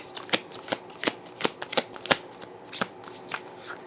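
Oracle cards being shuffled by hand in a quiet room, a series of crisp riffling snaps and soft slides at an uneven rhythm, close and fairly loud with no talking.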